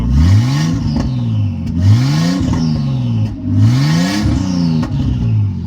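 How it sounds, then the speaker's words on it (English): A Nissan R34 engine with an open downpipe revs repeatedly in rising and falling surges, loud and close, with turbo spool whistle and a raspy exhaust note. "you really get to hear the engine noise and like the spool and everything"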